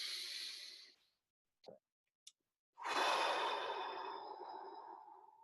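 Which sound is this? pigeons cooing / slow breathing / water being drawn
slow breathing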